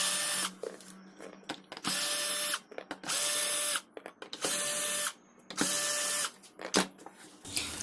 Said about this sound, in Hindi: अब एक एक करके सभी स्पीकर के सभी स्क्रू को ओपन कर लेते हैं।